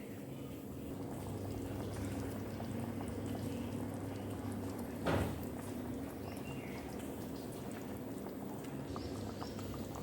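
Chicken soup simmering in a pot, a steady soft bubbling over about ten seconds with a brief louder clatter or splash in the middle.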